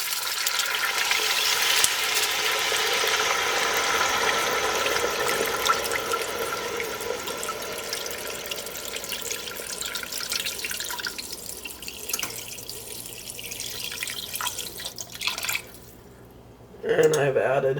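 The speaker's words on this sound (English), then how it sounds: "about 2 liters of water there." About two liters of water pour into a pot for chicken noodle soup in a home kitchen, a steady splashing rush that thins out toward the end before a short pause and a final clatter.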